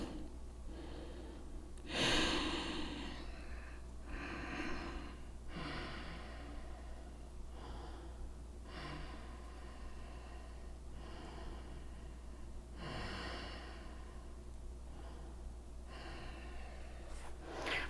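Steady breathing during a yoga forward fold in a home vinyasa workout, with slow audible breaths and a few sharper inhales repeating at an even pace over a low background hum.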